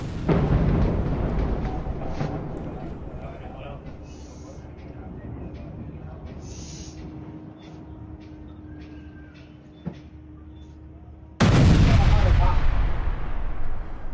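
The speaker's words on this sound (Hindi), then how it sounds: "नाबातिये इलाके में विध्वंसक एयर स्ट्राइक हुई है।" Heavy booming air strike blasts and rumbling roar in Nabatieh, a loud burst at the start and another sudden one near the end, with quieter debris-like noise between.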